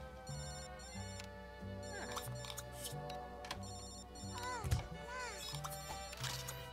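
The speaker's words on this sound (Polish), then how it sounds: "Jeszcze ten telefon wyzwania do mnie wiecznie." A telephone rings in The Sims 2 video game, a repeated electronic ring mixed with game music and cheerful sound effects, faint and low in level under a busy background.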